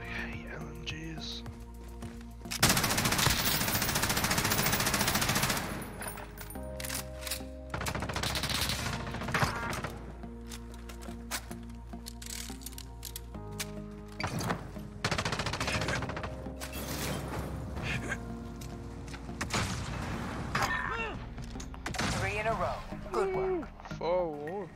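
Light machine gun fire rattles through a Call of Duty match in rapid bursts and short volleys with other gameplay sounds, and players talk throughout.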